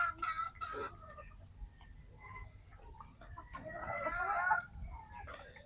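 Young pullet chickens on a farm cluck and call close by in scattered bursts over a low, steady background hiss.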